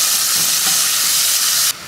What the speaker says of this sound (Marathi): आता यामध्ये घालूयात बारीक चिरलेला कांदा